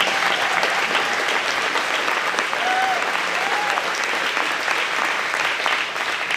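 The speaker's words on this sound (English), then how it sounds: "Round of applause for those who've worn uniforms." A Texas Republican audience gives sustained applause for military veterans, a thick, even roar of many hands clapping without letup, with faint voices mixed in.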